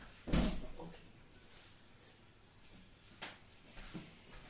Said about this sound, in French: j'ai mon chat qui gratte de nouveau à la porte